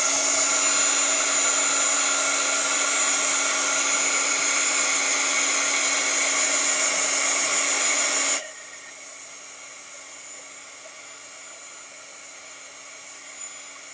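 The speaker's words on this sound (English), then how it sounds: "So I'm going to hit this really quick with my heat gun." A handheld heat gun blows loud and steady at close range over fresh paint on an abstract botanical canvas for about eight seconds, then cuts off abruptly, leaving a faint residual hum.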